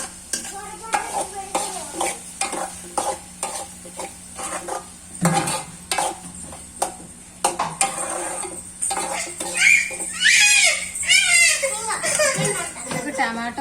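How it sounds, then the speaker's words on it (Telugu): Boiled mutton pieces go into a pan of tomato gravy, with clattering utensil stirs and scrapes, bursts of sizzling and a steady background hum, while voices and children's chatter rise near the end. "ఇప్పుడైతే ఉడకబెట్టి ఉంచుకున్న మటన్ పీసెస్ అయితే వేసుకుంటున్నాను"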